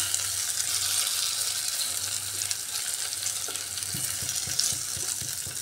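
Potatoes coated in salt and turmeric fry in a pan with a steady, fairly soft hiss, while a low hum runs underneath and several light taps come near the end.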